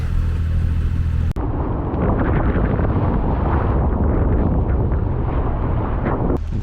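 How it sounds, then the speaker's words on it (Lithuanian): Strong wind of about 18 knots roars over a sailing boat in the Arctic near Svalbard, a loud, steady, broadband rush that continues without pause and briefly cuts out once early on. "Vėjas dar 18 mazgų."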